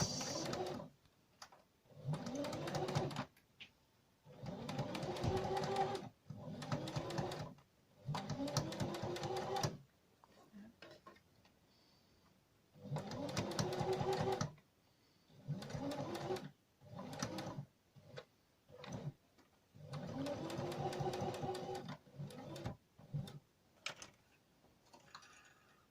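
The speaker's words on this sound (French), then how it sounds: "Et on va venir faire notre couture au point droit." A domestic sewing machine sews a straight stitch on a fabric face mask in repeated bursts of rapid mechanical whirring, each lasting a few seconds and separated by short pauses, close and clear with no talking.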